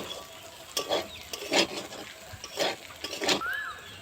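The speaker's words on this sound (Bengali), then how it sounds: "ঘি দেওয়ার পরে একটু নাড়াচাড়া করে নেব।" Sago (sabu) pulao with ghee being stirred in a pan: four or five separate scraping strokes, each a short rough burst, close and fairly quiet over a low kitchen background, with no talking.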